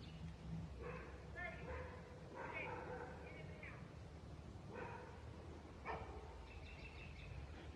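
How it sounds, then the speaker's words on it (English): Two dogs on a farm with goats bark in short excited bursts, sharp yips and whines repeating several times at moderate distance, mixed in under a person talking. "Don't mind the crazy dog barks. There's two crazy dogs running around."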